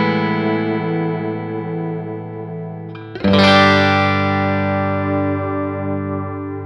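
Electric guitar through a Walrus Audio ARP-87 delay pedal, sustained chords trailing echoes, then a sudden jump as the modulation ramps up into a brighter, warbling, pitch-wavering wash that lingers and slowly decays.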